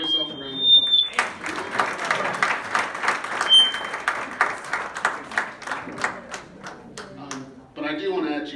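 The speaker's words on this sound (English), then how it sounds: "So give yourself a round of applause." Volunteers at a breakfast event applaud together, a steady burst of close clapping lasting several seconds before a voice resumes talking. A high electronic beep sounds at the start and once more partway through.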